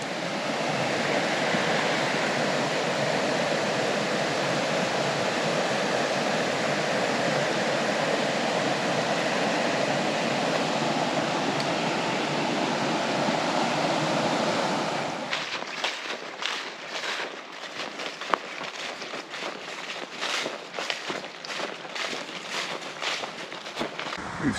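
Little River rushes beside the trail in steady broadband flow for most of the stretch, then gives way abruptly to a quieter scene with close footsteps and rustling.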